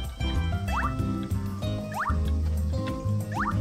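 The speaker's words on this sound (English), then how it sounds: "I now have to try and get all this watered" Crops being watered in the video game Story of Seasons: A Wonderful Life, with repeated splashing, dripping pours from a watering can over a bed of game music, several watering bursts in quick succession.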